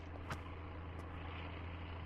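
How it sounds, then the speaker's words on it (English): A low steady drone of an airplane passing overhead in the SurrounDead survival game, faint and continuous beneath the game's ambience, with a few brief clicks and no speech. "I hear an airplane."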